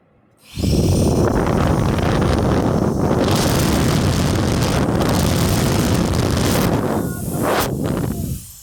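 A Temu electric blower starts up and runs steadily in one of its blowing modes, a loud, continuous rushing whoosh of air for about eight seconds before easing off slightly near the end.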